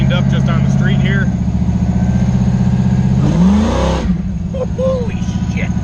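A supercharged, Chevy-powered Jeep engine drones steadily from inside the cab, then swells briefly into a rising rev before settling back. Voices talk over the engine noise.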